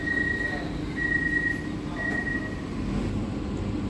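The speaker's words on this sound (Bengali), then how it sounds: "ট্রেন ছাড়লো তিন মিনিট লেটে" A Ranaghat–Sealdah AC local train pulls away under a steady low rumble, with brief repeated high tones sounding over the rolling noise inside the carriage.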